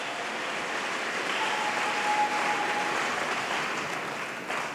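Congregation clapping at a salvation and deliverance crusade in Yaoundé, a steady, continuous wash of many hands heard from a distance at moderate level, with no speech over it.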